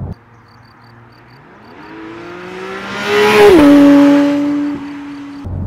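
Porsche 991.2 GT3 RS Weissach with its naturally aspirated engine accelerating hard, revs climbing through the gears with a sharp rising howl that peaks loudly before a shift and settles.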